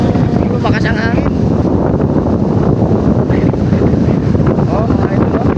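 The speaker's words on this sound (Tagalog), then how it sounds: "Lumakas ang hangin." Strong monsoon wind buffets the microphone in a constant loud roar at a seaside pier, with splashing waves and a faint voice underneath throughout.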